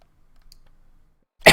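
A single short, close cough bursts out at the very end after near silence, from someone playing Fallout 4.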